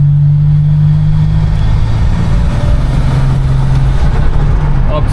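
A 1987 Buick Grand National turbo engine heard from inside the moving car, a loud steady drone with a rising tone as the turbo spools up while driving around 50.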